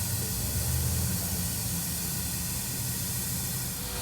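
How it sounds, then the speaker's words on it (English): An air nozzle fills the main air tank of a 1923 Stanley steam car with a steady, loud, continuous hiss that runs unbroken throughout, close up. "That airs up the main air tank in there."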